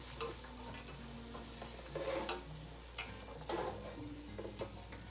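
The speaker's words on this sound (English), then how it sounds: "I'm going to add a little bit of salt. Go ahead and stir that in." Vegetables cooking for potato soup are stirred with a utensil after salt is added, giving a few scraping knocks against the pot over a low, steady sizzle.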